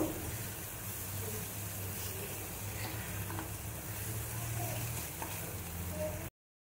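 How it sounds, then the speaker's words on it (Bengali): Chili powder, garam masala and coriander-cumin powder fry in a pan for a vegetarian chop filling, making a steady, close, even sizzle with faint stirring. It stops abruptly at the end. "এবারে মশলাটা বেশ করে ভাজা ভাজা করে নেব।"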